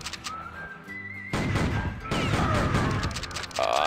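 Gunfire in the video game Outlaws, historical mission set in Wharf Town: loud, dense shots in bursts over a game soundtrack with whistling tones, the bursts close and continuous.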